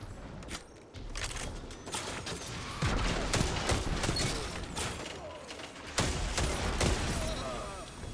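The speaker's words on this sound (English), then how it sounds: "Those were teammates shooting at each other." Gunfire in the Destiny 2 multiplayer video game, dense overlapping shots and rapid bursts crackling continuously over game ambience, moderately loud with faint game voices mixed in.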